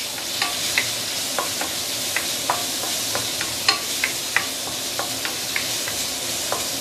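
Carrot sautéing in hot oil for a glass noodle stir fry: a steady close sizzle with repeated sharp clicks and scrapes of a utensil stirring in the pan, no voices.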